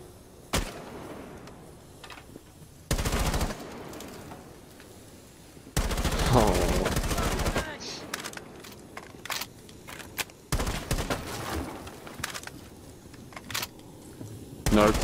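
Bursts of automatic gunfire and single shots in Rainbow Six Siege, coming in clustered volleys separated by quieter gaps with occasional thuds, fairly loud and close, no talk over them.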